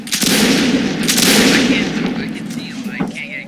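Gunfire in the Mount & Blade North & South multiplayer game, dense overlapping musket volleys in a loud continuous rumbling barrage that eases slightly toward the end, with faint voices mixed in.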